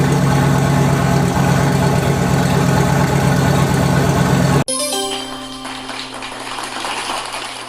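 A car's LS engine idles with a loud, steady rumble while warming up to purge air from the radiator, then cuts off abruptly partway through, leaving quieter mechanical hum and faint background noise.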